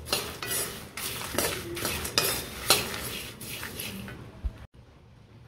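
A spoon scrapes and stirs roasted dal spice powder with salt in a metal pan on a switched-off stove, giving repeated clinks and gritty scrapes before a brief knock and quiet.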